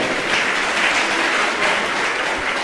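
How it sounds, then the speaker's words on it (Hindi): Loud, dense applause from an audience at a Jain religious discourse gathering, a continuous roar of many hands clapping at once, close and unbroken throughout the brief moment. "एक बार जोरदार तालियां बजाएं।"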